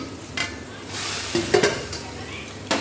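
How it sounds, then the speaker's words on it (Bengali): Mutton mince masala being stirred and fried in oil in a pan for a mince and chana matar dish, a steady sizzle broken by several scraping stirs and spoon knocks, close and fairly loud with no talking. "এই যে এটা মশলাটা, মাংসটা এবার ভালো করে কষিয়ে নিই তেল ছেড়া"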